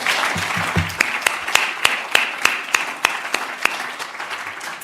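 An audience claps for poet Danielle Legros Georges after her reading, a steady wash of applause with a few sharper nearby claps standing out, holding evenly before thinning at the end.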